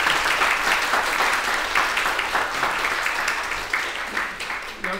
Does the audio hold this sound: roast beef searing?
no